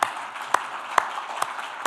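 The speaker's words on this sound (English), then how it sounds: "if everyone could give a round of applause to my parents" Applause from an audience at a talk, a soft continuous patter of many hands with a few louder, evenly spaced claps standing out near the front.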